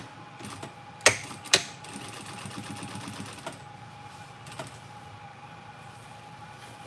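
A sewing machine topstitches a backpack with a fast, quiet mechanical whir, preceded by a couple of sharp clicks and followed by a steady run that tapers off.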